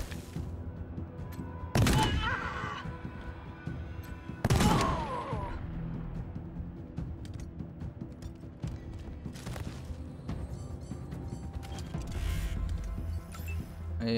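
Gunshots in the tactical game Wasteland 3: two sharp, loud bangs a few seconds apart stand out above a low, quiet background of ambient game noise.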